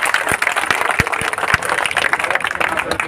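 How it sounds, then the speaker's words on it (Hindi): Loud applause from a crowd gathered at a sit-in protest by contract nurses in Jaipur, dense clapping with a few sharp close claps standing out, voices mixed in throughout. "बहुत जोर से तालियां बजाकर।"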